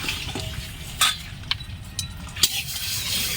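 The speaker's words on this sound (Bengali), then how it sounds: "কড়াই গরম হয়ে গেছে। এবার আমি ডালটা ভেজে নেব।" Moong dal dry-roasting in a hot wok: a soft, steady rustle and scrape of stirring, with a few sharp metallic clinks of the utensil against the pan.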